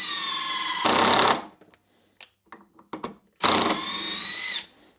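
A DeWalt impact driver drives a screw straight into softwood in two loud whirring bursts with short clicks and handling knocks between them, close up and without speech.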